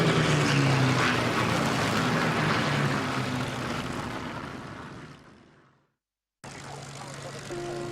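Spitfire propeller engine droning loudly at first, then receding and fading to silence as the aircraft leaves the airfield at Goodwood, followed by a different steady engine rumble after a brief cut.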